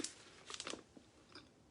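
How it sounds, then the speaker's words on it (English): Someone chewing cheesy queso food up close, a few quick crunchy, moist bites clustered together with a short pause between, no talking. "Sorry, no, I'm chewing."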